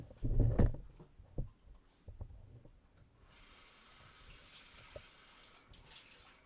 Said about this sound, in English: I like to get a cup of water so that I can get my spoon wet.